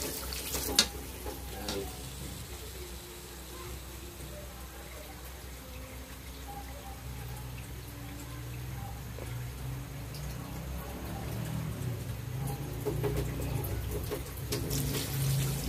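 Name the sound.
water pouring from tap into pot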